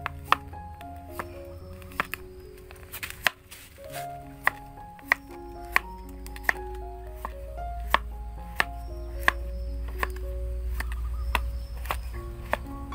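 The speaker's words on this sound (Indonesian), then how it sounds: "Jadi gula merahnya ini kita potong-potong halus ya." Palm sugar being chopped finely with a knife on a board, a steady run of crisp, evenly spaced knock-like chops close by, with a low background hum and no talking.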